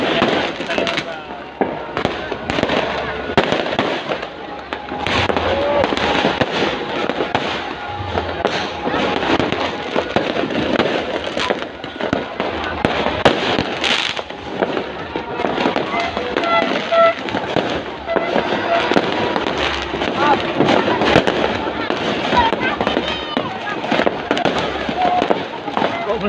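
A big fireworks display in Yogyakarta: continuous rapid crackling and popping bursts overlap for the whole stretch, loud and dense, with crowd voices mixed underneath.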